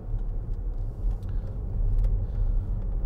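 A 2013 Range Rover Sport 3.0 SD V6 diesel pulls away with a low, steady engine rumble and road noise heard from inside the cabin, fairly loud and continuous.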